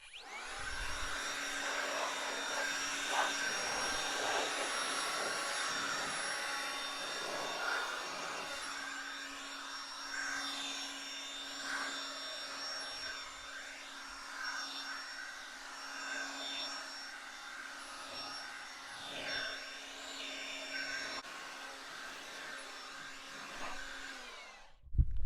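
Air blower drying a ceramic-coated Cadillac Allante, a loud continuous whooshing roar with a steady whine that rises and falls as the nozzle moves, lasting throughout with no talking.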